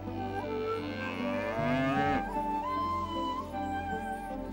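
A single cow lowing, one long drawn-out moo that rises and falls in pitch, close and fairly loud with no talking.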